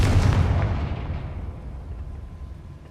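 Confringo fire spell detonating in Hogwarts Legacy on PC: one deep, loud blast that rolls out at once and fades into a long, rumbling decay, with no speech.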